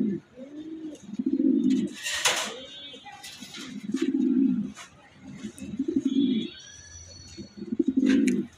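Budapest racing pigeons coo in repeated low, rounded calls at a steady rhythm, close by, with faint rustles and a few brief sharp noises between the coos.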